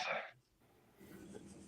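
One sharp, breathy sneeze bursts out close by, followed by quiet and then faint talking.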